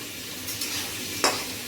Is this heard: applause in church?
no